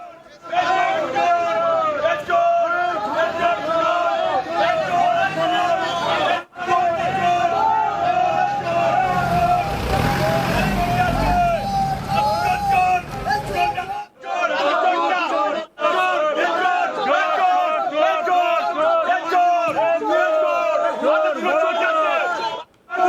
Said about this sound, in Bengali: ওই দুই নেতাকে থানা থেকে আদালতে নিয়ে যাওয়ার সময় চোর চোর স্লোগান দেয় বিজেপি কর্মীরা।